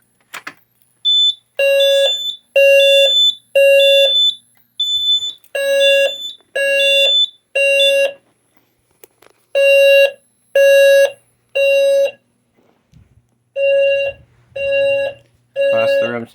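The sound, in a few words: Simplex fire alarm sounding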